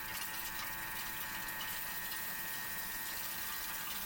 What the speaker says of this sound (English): I'm just going to wash my fingers. Get that egg off.